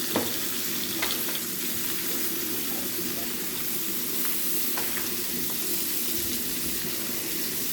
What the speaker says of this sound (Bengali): মাছটার এক সাইড ভাজা হয়ে গেছে